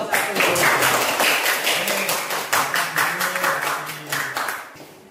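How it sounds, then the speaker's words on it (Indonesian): Students in a classroom clap for the first group, a burst of overlapping applause that slowly thins out, with voices mixed in under the clapping. "tepuk tangannya mana kelompok 1"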